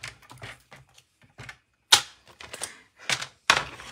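Cardboard box being cut, a box made to hold four cards: a run of sharp, irregular snips and crunches, close and fairly loud, with quieter cuts between stronger ones and no talking.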